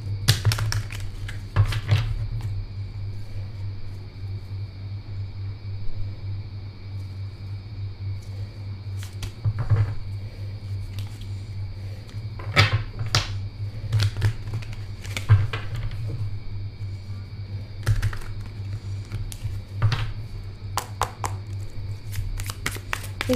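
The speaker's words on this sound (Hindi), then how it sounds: "इस डेक को ना मुझे थोड़ा सा ज़्यादा शफल करना पड़ेगा" A tarot card deck being shuffled by hand, giving a series of short, irregular riffling and tapping bursts over a steady low hum, with quieter handling noises between them.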